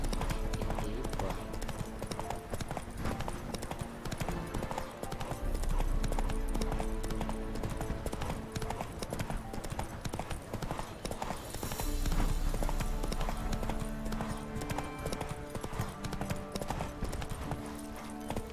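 Hooves of the horse Roach clip-clopping at a steady, continuous pace in a video game, close and prominent, with game sounds and occasional voices mixed in.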